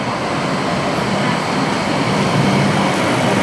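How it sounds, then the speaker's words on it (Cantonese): A light rail train rumbles loudly and steadily past at close range, a continuous roar of wheels and motor with no voices. "呢架車1156輕鐵5期列車"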